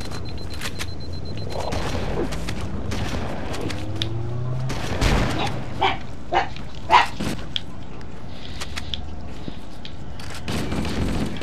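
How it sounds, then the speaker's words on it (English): A real dog barks several times in quick bursts somewhere in the room, its sharp yaps mixed with loud gunfire from a Halo: Combat Evolved firefight. "Every time my dog barks, I just wonder what the hell"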